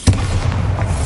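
A single sharp Bombarda spell blast in Hogwarts Legacy, a loud booming thump at the start that leaves a short rumbling tail.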